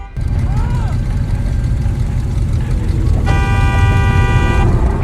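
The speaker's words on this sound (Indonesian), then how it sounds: "langsung menekan klakson terus-menerus" A car horn sounds one sustained blast over a low rumble of engine and traffic, loud and near.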